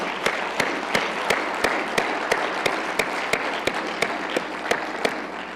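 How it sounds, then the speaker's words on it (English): Applause from the audience at a university spring semester opening session: a broad, steady wash of clapping with a sharp, regular tapping sounding about three times a second throughout. "Big round of applause for everybody."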